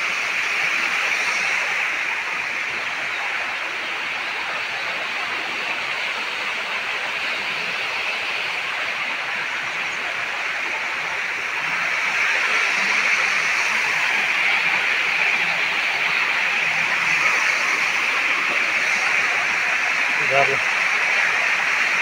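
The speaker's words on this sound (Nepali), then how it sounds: "गुफाभन्दा माथिपट्टिबाट पानी आएको छ, झर्ना छ होइन" Water from a tall waterfall pours down from above a cave in a constant, even rush. The sound holds steady for the whole stretch and swells slightly partway through.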